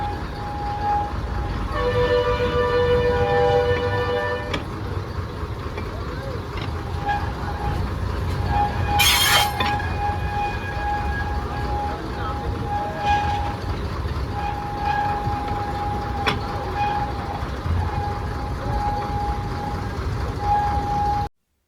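A slow hill train at Kailasagiri rumbles steadily along its track, with a long, steady horn tone sounding over the rolling noise and occasional faint talk.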